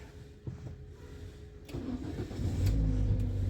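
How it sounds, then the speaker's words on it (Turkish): A 2011 DFM car's engine starts via push-button start: a quiet click, then the starter cranks, the engine catches and rises to a loud, steady idle close by. "Aracımız çalıştı."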